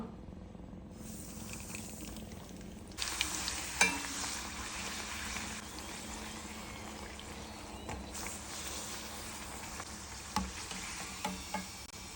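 Thin batter cooking in hot coconut oil for thikshe midshe rotti, a continuous close sizzle that jumps louder after a few seconds, with scattered light clinks and scrapes.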